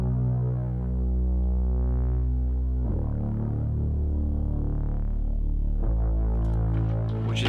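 Layered bass synth pushed through tube saturation, producing a loud, sustained, deep rumbling drone with slow throbbing swells and a couple of sharp shifts in tone, heard alone without voices.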